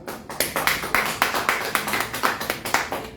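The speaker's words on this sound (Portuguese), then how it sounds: "Vamos aplaudir." A church congregation claps in unison at a steady, rhythmic beat, each sharp crack landing evenly about four times a second, close and prominent with no talking over it.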